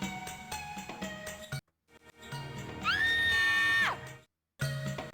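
A Mia computer toy character lets out a shrill, sustained electronic scream lasting about a second, framed by brief silences and surrounded by children and adults talking.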